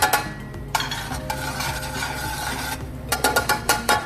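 Minced garlic sizzles in a pan for garlic shrimp pasta: a steady frying hiss runs throughout, broken by several close, sharp scraping stirs near the start and a quick run of them at the end.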